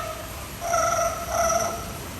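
Two short bursts of a warbling, ringing electronic-like trill, a parrot at Jurong Bird Park, Singapore, mimicking a telephone ring, over faint background hiss.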